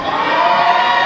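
A loud crowd cheers and shouts in a sustained roar for a fighter at a combat event, with children's voices and whoops mixed in.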